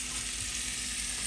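Beef for birria tacos browns in a hot pan, giving a steady, moderate sizzling hiss that holds for just over a second with no voices.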